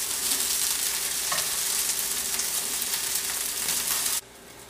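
Sun-dried tomato and pine nut risotto cakes sizzle steadily in a hot pan after being flipped, a loud, dense frying hiss that drops abruptly to a quieter level near the end.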